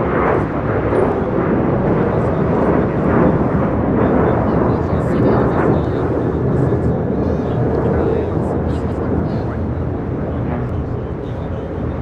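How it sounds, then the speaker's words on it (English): American Airlines Boeing 737-800 in oneworld livery taking off from LAX, a loud, continuous rumbling jet roar with a thunder-like low end that holds steady across the whole stretch. "2388 taking off to Las Vegas on a 737-800 in the One World livery"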